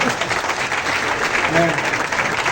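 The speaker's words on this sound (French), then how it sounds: "Applaudissez-le, s'il vous plaît." Students and families applaud a student laureate at a first-day-of-school ceremony at a national lycée, a steady wash of clapping with a voice briefly heard over it.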